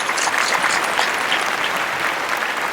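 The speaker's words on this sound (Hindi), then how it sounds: "आप सब एक बार जोरदार तालियां बजाकर बता दीजिए" Audience at a live comedy show gives loud, continuous applause, a dense wash of many hands clapping at even volume throughout.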